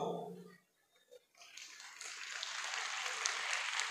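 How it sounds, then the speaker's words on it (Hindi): An audience at a speech during the Aligarh Mahotsav applauds in a bright, dense patter of clapping that swells in and continues steadily, following a brief moment of a voice. "मेरी बात पे ताली मत बजाओ"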